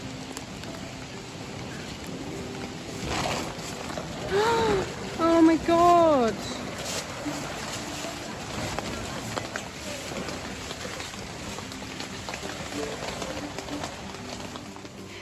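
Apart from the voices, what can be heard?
heavy rain falling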